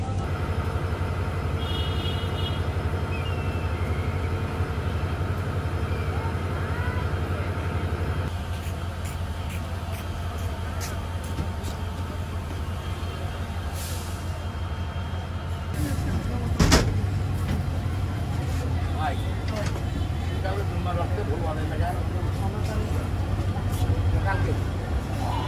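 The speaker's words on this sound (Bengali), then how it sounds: "আমাদের ট্রেন ছেড়ে যাচ্ছে বামনডাঙ্গা স্টেশন থেকে" The Korotoa Express train pulls out of Bamondanga station with a continuous low rumble and a steady mechanical drone, a sharp knock midway, and voices talking over it.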